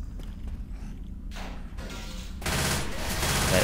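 Gunfire in Left 4 Dead 2 on the Cold Stream map, a dense burst of shots that builds into sustained rapid fire over constant game noise, with faint talk underneath.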